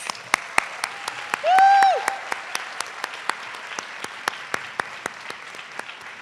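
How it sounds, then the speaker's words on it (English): Steady applause from a crowd at an academic excellence award ceremony, with a brief whoop rising over the clapping partway through. "I'm going to ask for one more round of applause for all of our scholars"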